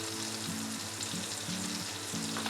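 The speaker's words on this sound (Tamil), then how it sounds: "அதில் கடுகு சேர்க்குறேன். கடுகு வந்து நல்லா பொரியணும்." Mustard seeds spluttering in hot butter in a pan, a dense steady sizzle with crackling pops, close and continuous with no voices.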